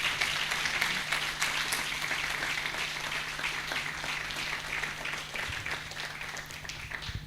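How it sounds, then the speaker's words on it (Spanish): A church congregation claps together, a dense, even patter of many hands that holds steady for several seconds at a moderate distance. "Denle un fuerte aplauso al Señor"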